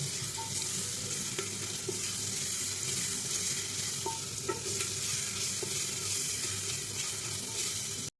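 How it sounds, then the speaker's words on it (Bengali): Ground cumin and other spices frying in oil in a pot, a continuous even sizzle close up with occasional soft scrapes and taps from stirring. "মশলাটা ভালো করে ভেজে নিই"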